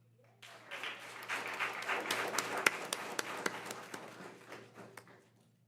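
Applause at a school board meeting for an absent cadet sergeant, a room of hands clapping steadily with a few sharp louder claps before it thins out and fades near the end.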